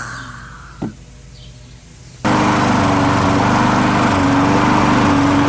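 Murray 20-inch push lawn mower with a 4 HP Briggs engine starts abruptly after a quiet pause and a brief pull, then runs at a loud, steady, buzzing idle close by.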